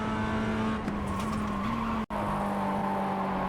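A Mazda MX-5 in the iRacing simulator brakes hard with tires squealing, its steady engine drone dipping briefly at a downshift into second gear before the pitch carries on, loud and close throughout.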